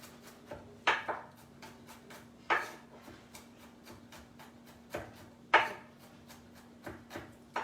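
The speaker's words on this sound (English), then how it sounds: "First off, we are going to start by chopping some garlic." A knife chops garlic on a board, with a steady run of light quick taps broken by several louder, sharper chops spaced a second or two apart, close and clear without talk.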